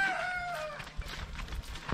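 Rhode Island chickens cluck close by with a fading crow-like call at the start, followed by scattered scuffles and soft bumps in a farmyard setting.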